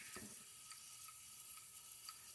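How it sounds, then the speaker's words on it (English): A broken Fluidmaster toilet fill valve runs constantly, giving a faint, steady hiss of water refilling the tank, with a few soft ticks and a brief splash near the start. "So I think our toilet is constantly running."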